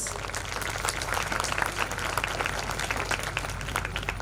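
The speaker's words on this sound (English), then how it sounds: "Let's clap as loud as high his personality is" An audience claps steadily at the Excellia School annual function, a dense, even wash of many hands that holds at a strong level for the whole stretch with no voices standing out.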